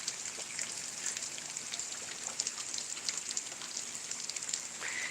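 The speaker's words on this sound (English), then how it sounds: "But actually that means rain." Rain falls steadily on a stormy night, a close, crackling patter of drops hitting a surface, dense and even, with scattered louder splats throughout.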